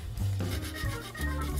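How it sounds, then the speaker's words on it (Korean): Sandpaper rubbed over a hand-carved wooden piece, heard as a few close, rough scraping strokes in quick succession with no talking. "칼로 대충 다듬었으면 사포로 한 번 더 다듬어 줍니다."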